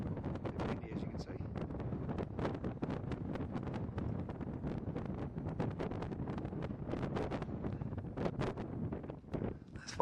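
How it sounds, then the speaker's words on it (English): Steady wind gusting across a mountain lookout with a distant peak in view, a continuous rough rush buffeting the microphone for the whole stretch, with no voices. "Windy, as you can see."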